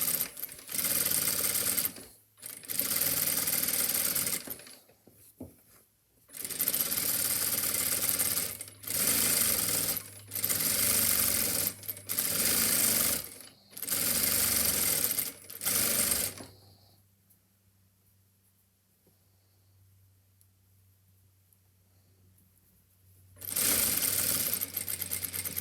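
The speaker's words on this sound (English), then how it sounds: "we're just going to sew over that now, and that just increases all of the raw edges within that seam" A sewing machine running bursts of fast stitching over a trouser seam, each run loud and close, separated by short pauses, then a long quiet stretch before stitching resumes.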